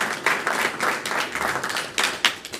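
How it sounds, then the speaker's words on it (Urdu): Audience applause at an Urdu poetry gathering in Willesden Green, London, a steady burst of clapping from a seated crowd lasting a couple of seconds, fairly close and moderately loud. "بھرپور تالیاں ہونی چاہیے"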